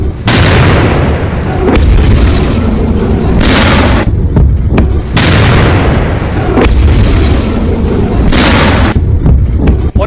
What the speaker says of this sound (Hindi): एक के बाद एक मिसाइल हमले हुए